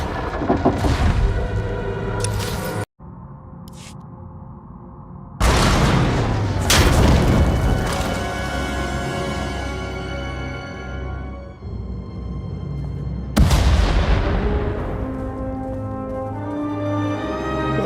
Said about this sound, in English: We heard explosions. The tunnel collapsed.